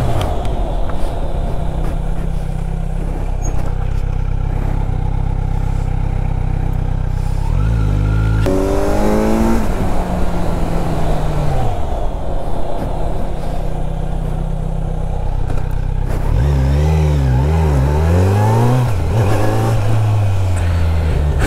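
A Kawasaki Z900 motorcycle engine roars and revs loudly during a wheelie stunt, holding a steady drone before rising and falling revs, close and continuous.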